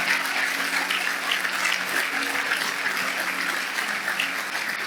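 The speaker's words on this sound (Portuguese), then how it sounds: "Vamos lá, aplauda o Rei dos Reis." A church congregation applauding during a worship service, dense sustained clapping from many hands filling the room at a steady level throughout.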